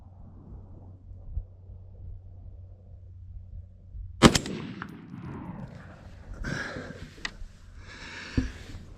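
LR308 A5 rifle firing Winchester M80 ammunition, a single sharp, loud gunshot crack with a quick ringing tail, followed by a few fainter metallic clinks and rattles.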